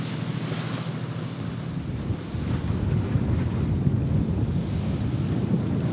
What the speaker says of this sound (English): There is nothing that will give us protection from this horrendous weather, so we have to stick it out.